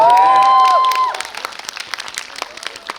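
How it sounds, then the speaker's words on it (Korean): At a stage-greeting talk event for the film 내안의그놈, an audience lets out a brief burst of high cheering that quickly thins into scattered, fading handclaps. "질문 주신 분에게 박수도 한번 주세요."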